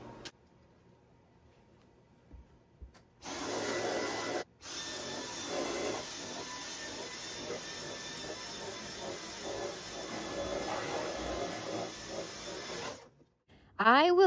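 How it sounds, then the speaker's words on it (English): A vacuum cleaner starts up and runs steadily while cleaning basement stairs, a loud continuous whine with shifting scrapes and bumps as it moves, briefly cut off once before cutting out at the end. "Now we just have to vacuum these stairs."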